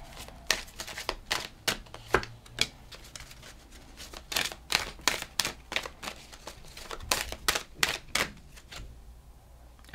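Tarot cards are shuffled by hand in a quiet room, giving a steady run of soft, crisp riffling snaps that are fairly close. The snaps stop just before the end.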